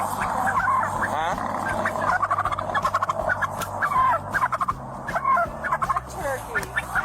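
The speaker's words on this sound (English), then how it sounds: "Turkey." A turkey gobbles repeatedly at close range, rapid rattling calls coming in bursts throughout, with some other sounds in the background.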